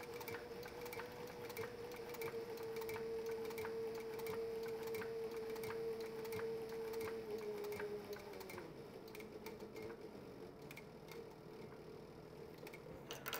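Sewing machine stitching a leather mouse pad, running in a steady rapid rhythmic whir with regular needle ticks for about eight seconds, then slowing to a quieter settle; close and alone, no talk.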